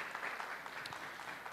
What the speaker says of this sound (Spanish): Sí, un aplauso.